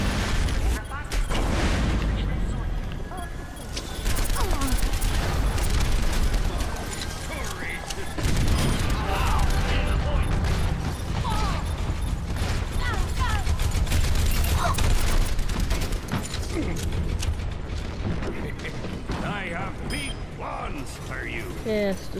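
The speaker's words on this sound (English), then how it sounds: "Yes, destroy the mech." A mech in the Overwatch video game fights amid dense, continuous battle noise of mechanical clanking, rapid gunfire and booms, with a voice talking over it throughout.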